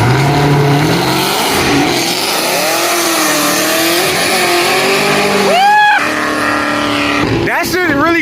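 A loud car engine roars through a header dump exhaust as a raw, constant blare with rising and falling revs. Near the end come sharp, whining sweeps, and people talk over it.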